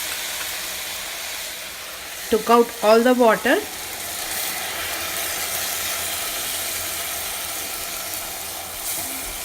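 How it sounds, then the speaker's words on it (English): Brinjal pulav mixture frying in a pot gives a steady low sizzle through the whole stretch, with a short burst of speech near the middle over it. "let it fry for a little bit and we'll add our rice"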